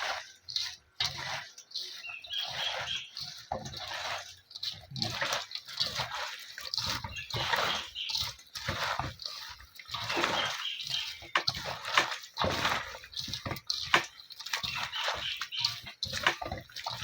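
Water poured over a banana heart as it is washed and kneaded by hand, giving continuous close, uneven splashing and squelching with bursts of dripping throughout.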